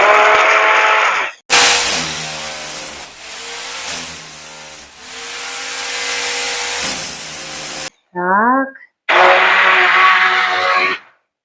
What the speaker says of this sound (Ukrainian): Все гарненько тепер перебиваю блендером до однорідної маси